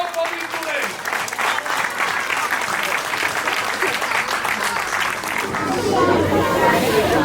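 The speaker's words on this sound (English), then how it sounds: "Give a big round of applause for these students" Sustained applause from an audience after a student dance performance, steady clapping with some crowd chatter, swelling louder near the end.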